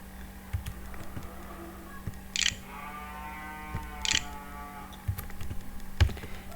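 Keys on a computer keyboard tapped while CSS code is written, heard as faint, sparse clicks spread across a steady low background hum.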